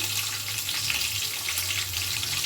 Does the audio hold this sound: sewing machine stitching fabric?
no